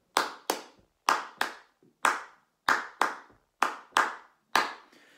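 A single pair of hands claps a rhythm in a music and maths lesson, crisp close claps in short groups with brief gaps between, clean and isolated against silence, with no voices.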